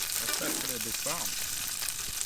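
Butter sizzles and browns in a pan inside a heated tent at -10C, a soft, steady frying crackle with a voice briefly speaking over it.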